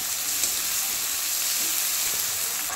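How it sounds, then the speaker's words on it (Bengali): Chopped onions fry in hot spiced oil, a dense steady hiss and crackle heard close up, even and unbroken with faint stirring underneath and no talking. "পেঁয়াজ দিয়ে পেঁয়াজটাকে প্রথমে হালকা লাল করে ভেজে নেব"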